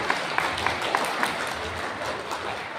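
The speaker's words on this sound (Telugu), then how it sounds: "ఒక్కసారి మీకోసం మీరు గట్టిగా చప్పట్లు కొట్టుకోరాదు" A crowd at a community gathering claps for a few seconds, scattered sharp hand claps over a background murmur, fairly faint and fading.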